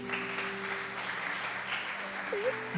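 A church congregation applauds during a Portuguese-language sermon, with soft, fairly quiet clapping spread evenly throughout and a sustained tone and a brief sliding sound in the background.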